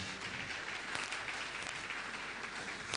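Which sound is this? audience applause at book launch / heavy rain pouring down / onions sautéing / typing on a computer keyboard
audience applause at book launch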